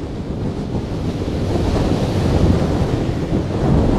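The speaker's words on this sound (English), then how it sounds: "this is a quite impressive amount of wind we've got going today" Strong wind buffets the microphone at a beach while waves break and surf rushes, a loud, steady roar that builds slightly toward the end, with no talking.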